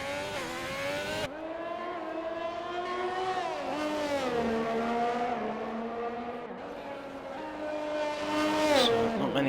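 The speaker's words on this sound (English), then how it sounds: "Many cars on track at the moment, just Cyber Husky on an invalidated lap" Race cars lapping Monaco in a sim racing game, engines whining and shifting pitch as they rise and fall through gears, continuous and fairly loud, with a commentator talking faintly underneath.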